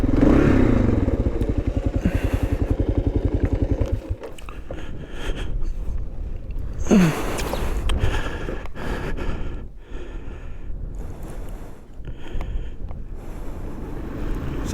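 Motorcycle ridden with a 360 camera mounted, a close pulsing engine drone giving way to rushing wind buffeting and thumps, with no talk.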